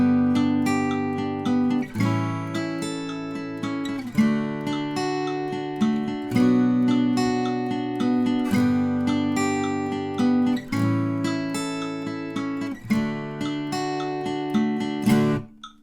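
Guitar playing the lead line for a song's chorus, a bright, busy run of picked notes in a lively repeating rhythm, close and steady for about sixteen seconds with no talking.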